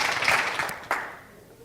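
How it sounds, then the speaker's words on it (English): An audience gives a round of applause, a dense wash of many hands clapping close and loud that gradually thins and fades toward the end. "So, give him a round of applause."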